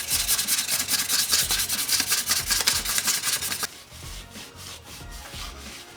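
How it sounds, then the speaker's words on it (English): Fine 2500-grit sandpaper rubs over a Toyota W56 manual transmission synchro ring, a fast rhythmic scratchy sanding close up that continues more softly after a brief pause. "I'm gonna just grab some 2500 grit sandpaper and just smooth out this surface right here."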